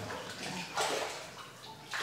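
A child swims and splashes in a hotel pool at a Playa Mujeres resort near Cancun, giving short close sloshing bursts of water with quiet gaps between them.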